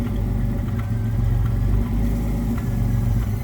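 A Pontiac Fiero GT, refurbished with new front-end parts, idles unassisted with a steady, close, low rumble and slight rhythmic pulsing, no revving.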